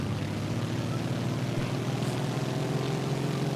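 A single-engine propeller plane in Microsoft Flight Simulator 2020 throttles up during aerobatics, its engine a steady, loud, continuous drone with a constant low hum running the whole time.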